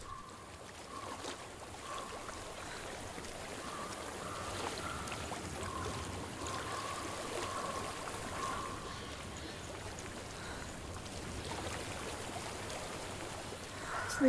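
Steady stream of flowing water in the dark fantasy game Hellblade: Senua's Sacrifice, a continuous rushing trickle heard alone at moderate level with a constant low rumble beneath.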